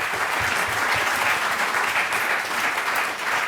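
Sustained audience applause fills a hall during a conversation event with author Irene Vallejo and her translator, a dense, steady wash of many hands clapping at close range with no talk over it.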